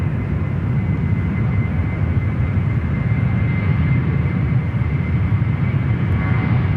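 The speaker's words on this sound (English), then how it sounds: "Let's rip it in straight to another parallel departure, runway right, Jetstar." A Jetstar Airbus A320 jet departs Sydney Airport's parallel runway, a loud, steady broadband engine roar and rumble that holds constant throughout with no talk over it.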